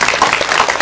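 A brief burst of audience applause at a Q&A screening event for the Korean film The Moon: dense, close clapping from a seated crowd, loud and continuous.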